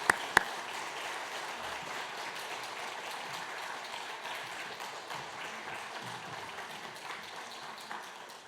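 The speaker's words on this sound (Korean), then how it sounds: "우리 그래도 올라오실 때 박수로 먼저 환영하면 어떨까요?" Church congregation at a Sunday service applauds to welcome a speaker to the front: steady, fairly soft clapping with a hissing texture that holds evenly throughout, opened by two sharp clicks.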